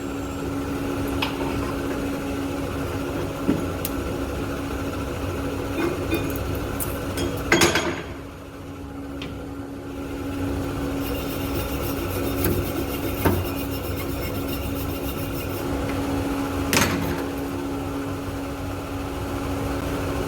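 Arc welding a cover pass on a steel test plate for a shipyard welder assessment, a steady close crackle and hiss with a few brief pops and a short pause midway.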